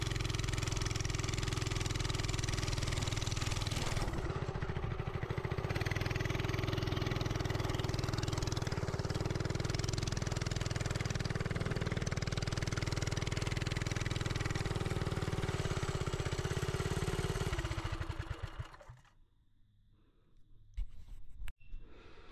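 A minibike's small engine runs loud and close at a steady rough idle for most of the time with its chain and clutch covers removed, revving slightly before cutting out near the end and leaving quiet clatter.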